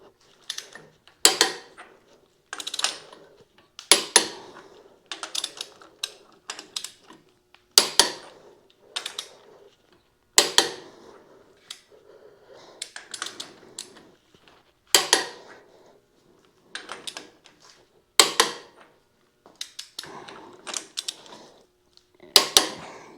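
Wrench tightening the cylinder head nuts on a 1927 John Deere D tractor: repeated metallic ratcheting clicks and clanks in regular bursts, with quiet gaps between strokes, close and fairly crisp.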